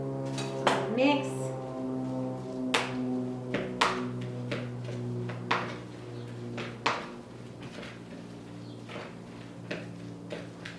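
Cilantro and chickweed being mixed into a mash in a bowl, with scattered clinks and knocks of a utensil against the dish over a steady background hum, irregular and fairly close.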